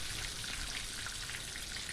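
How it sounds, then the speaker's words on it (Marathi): Loud, dense sizzling and crackling of plenty of curry leaves in hot oil for tempering, continuous and close, with no voices. "भरपूर असा कढीपत्ता फोडणीला टाकून घ्यायचा आहे"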